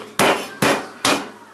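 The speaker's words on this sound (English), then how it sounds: "Beat it up a little bit with a hammer." A meat hammer pounds a split pork loin for a sausage-stuffed roast, three heavy, evenly spaced thuds up close with no talking.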